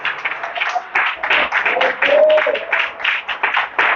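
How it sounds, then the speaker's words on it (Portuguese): A church congregation applauds loudly during a Portuguese-language worship service, with dense, uneven clapping that surges and dips over several seconds, a faint sustained tone riding underneath. "Vamos aplaudir bem forte ao Senhor. Pode aplaudir mais forte a Ele."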